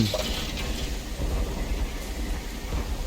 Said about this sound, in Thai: โอ้โหฝนแม่ง